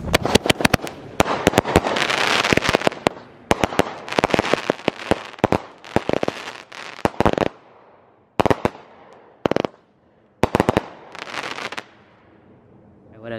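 Loud fireworks cake, Skate or Die by Warrior Fireworks, firing a rapid series of sharp bursts and crackles, with brief pauses between volleys and a few final isolated shots.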